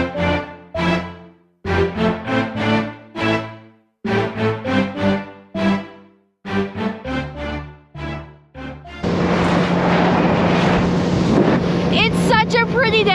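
A loaded-down dive boat's motor and rushing wind roar steadily on open water in the Bahamas, loud and close, following a stretch of rhythmic plucked music.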